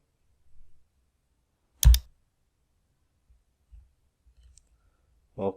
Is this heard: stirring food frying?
no